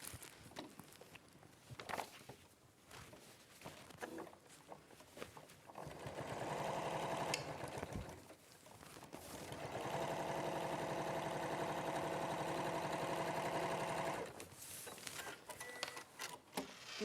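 Sewing machine running steadily as it stitches across the top of fabric panels placed wrong sides together, a quarter inch from the edge, with two sustained runs of moderate loudness separated by brief handling sounds.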